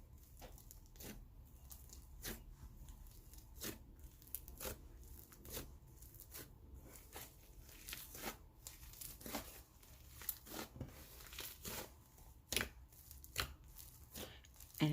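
Inflated slime from a small shop being squeezed and pressed, giving off a steady run of close, sizzly crackles and crisp popping bursts with no talking.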